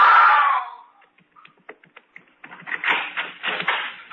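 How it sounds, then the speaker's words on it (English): A loud, shrill scream opens, then quiet clicks and taps, followed by a burst of muffled, scrambling noise. "Sawyer, I heard someone scream."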